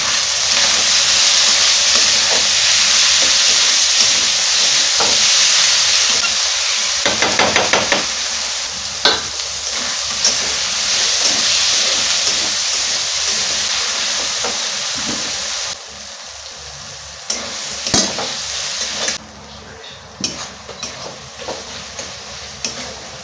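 Chopped tomatoes with salt frying in a pan for soybean and egg curry, a loud steady sizzle with occasional scraping knocks from stirring, the hiss easing partway through.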